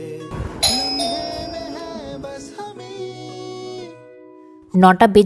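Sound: doorbell ringing

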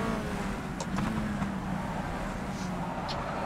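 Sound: Peugeot 208 GTI Cup car engine in video game rFactor 2

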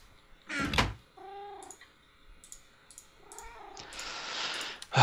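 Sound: cats meowing in Minecraft video game

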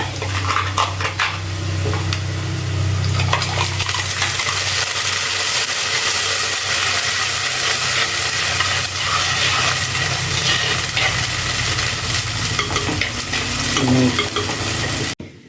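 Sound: ground coconut masala paste poured into a pan and stirred

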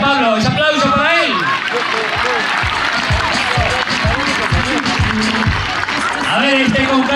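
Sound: audience applause

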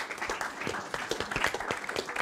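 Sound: audience applause after a presentation

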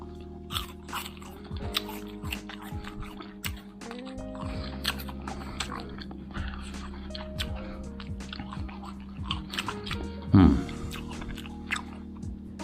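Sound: biting and chewing crunchy Taiwanese white guava

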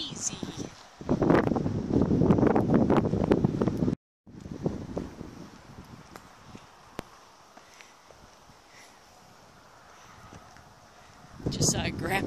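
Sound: breezy wind at the beach

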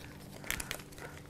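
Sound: handling empty Ziploc plastic bags

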